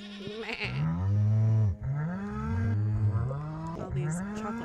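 A farm-game cow gives a long, deep, harmonic moo with a bleating quality, swelling loud and close, then a second drawn-out moo after a brief gap, alone without talk.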